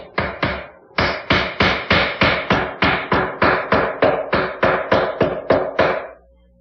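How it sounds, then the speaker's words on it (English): A chisel and wedge being hammered into the end of a Windsor chair spindle, a steady run of about seventeen loud, close wooden mallet blows after a short pause, with no talk. "take a double-edged chisel, which I ground out of an old chisel, split it, and then put in a wedge with some glue"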